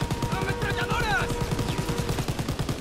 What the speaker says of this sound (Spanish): ¡Ametralladoras!